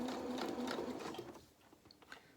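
Sewing machine running a short burst of stitches through the fabric of a small reversible winter cape, a fast close whirring chatter that cuts off midway and leaves faint clicks and handling sounds.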